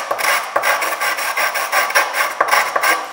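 A file rasps back and forth across the cut edge of a boiler sight glass, loud close strokes in a quick, slightly uneven rhythm with no talk.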